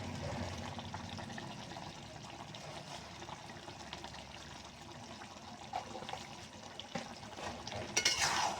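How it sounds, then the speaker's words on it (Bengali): Fish and bean curry with flat bean seeds being stirred in a simmering pan, a steady wet bubbling and scraping texture throughout with a slightly louder clatter near the end; no talking. "এখন একটু নেড়ে চেড়ে দেবো।"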